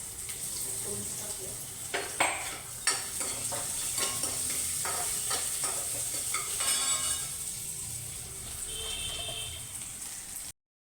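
Ginger and tempering spices sizzle in a pan over moderate heat, a steady close frying hiss broken by a few sharp clinks and stirring scrapes, with no talking, before the sound cuts off abruptly.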